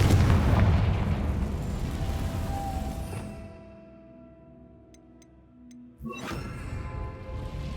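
A Confringo blasting spell explosion in Hogwarts Legacy opens with a loud rumbling boom that fades to a quiet lull, then another sharp blast erupts and rumbles on.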